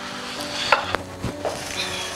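Knife chopping boiled potatoes into small cubes, a few soft, scattered cutting knocks at close range with quiet kitchen background and no talking.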